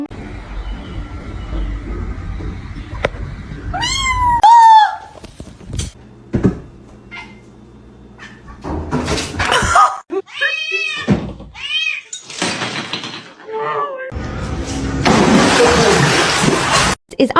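A kitten meows loudly and close up in several drawn-out cries spread through the clip, mixed with thumps, clattering and short stretches of nearby voices.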